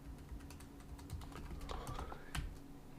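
Quiet, rapid typing on a computer keyboard while writing C++ code, a steady patter of soft key clicks with a few louder taps, heard close up.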